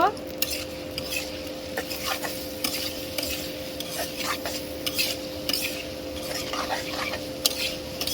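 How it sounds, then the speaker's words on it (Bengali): Onions fry in oil in a pan while a spoon stirs them, scraping and clinking against the metal over a steady sizzle and a constant background hum, close up, with no talk. "পেঁয়াজটা ভেজে নিব।"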